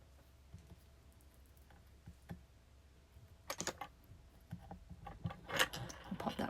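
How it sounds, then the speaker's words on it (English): A portion of polymer clay is sliced in half with a blade on a work surface. Sparse light taps and clicks build into a denser cluster of close, quiet scraping and tapping near the end, with no talking. "So I'm just going to cut my portion here in half."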